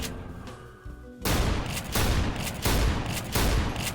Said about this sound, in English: You can get shots off real fast.